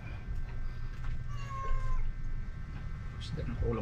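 Cats meow while being fed fish, their calls rising amid household noise and a person talking nearby, with a rooster-like cluck mixed in the background.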